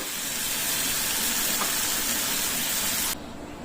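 Steady broadband sizzling of onions sautéing in hot oil in a pan, continuous and close, with no voices; the hiss drops off abruptly near the end.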